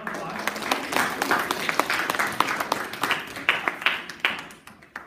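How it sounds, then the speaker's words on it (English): A school audience at a GATE guest-speaker presentation claps for several seconds, a dense patter of many hands at moderate distance that swells briefly and then tapers off. "Let's give them a round of applause."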